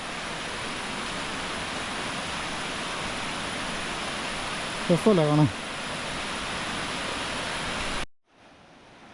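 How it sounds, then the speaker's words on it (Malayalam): The Thodupuzha river at Moolamattam in Idukki pours down from the dam as a steady, loud broadband rush; a voice speaks briefly midway, then the sound cuts off. "ആ ഡാമിൽ നിന്ന് വെള്ളം ഒഴുകി വരുന്നുണ്ട്"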